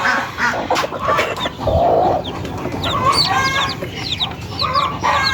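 Newly hatched tiger chicken chicks peep in quick, high-pitched chirps, many overlapping close by, over a low background hum.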